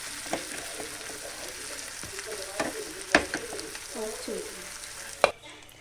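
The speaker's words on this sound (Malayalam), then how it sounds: "നമ്മുടെ ചിക്കൻ ഏകദേശം പൊരിച്ച് വന്നിട്ടുണ്ട്" Chicken fries in a pan with a steady crackling sizzle, broken by a few sharp clinks and scrapes from a utensil; faint background sounds.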